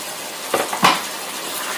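Chicken and spring onions are stirred in a pan until wilted: two quick utensil scrapes over a soft, steady sizzle, with no voices.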